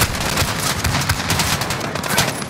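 Rapid gunfire in the video game Modern Warfare forms a loud, dense burst of overlapping automatic shots that continues without a break for about two and a half seconds.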